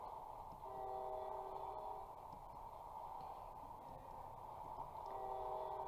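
A train in Roblox rumbling along with a sustained two-tone horn blaring near the start and again near the end, faint and steady throughout.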